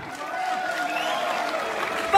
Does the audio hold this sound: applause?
yes